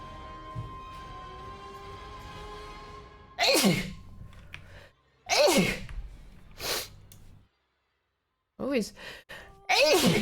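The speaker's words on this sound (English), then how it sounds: "Start sneezing when I turn on stream." Several sharp, loud sneezes come in separate bursts, each followed by a brief gap, one after another close to the microphone, with a bit of quiet talking and background tones between them.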